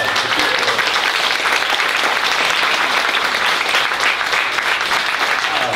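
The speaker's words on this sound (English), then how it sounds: "give it a round of applause" An audience at a poetry reading in a bookstore applauds continuously, with dense, even clapping filling the room at steady volume throughout.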